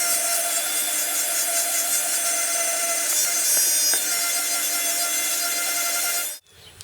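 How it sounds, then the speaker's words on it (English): A Dremel Multi-Max oscillating tool fitted with 80 grit sandpaper sands a cracked steering wheel, a close, steady high-pitched buzzing and rasping that runs continuously and then cuts off abruptly near the end. "This is my Dremel Multi-Max."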